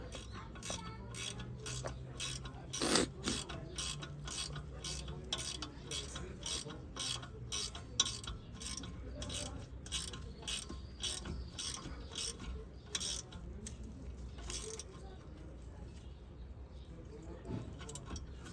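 A ratchet wrench tightens a 13 mm bolt on the rear brake of a VW Passat B6, producing a long run of quick, regular clicks over steady workshop background noise.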